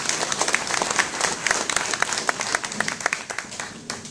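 A crowd at a cattle auction breaks into a round of applause, many hands clapping in a dense, lively patter that runs for several seconds and gradually thins toward the end.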